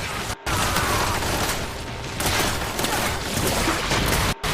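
Rapid automatic gunfire from the video game Warframe, a dense, continuous burst of shots that runs almost the whole time with two brief cutoffs, loud and close.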